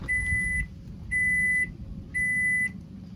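A microwave oven gives three evenly spaced, clear electronic beeps, each lasting about half a second, over a faint background hum.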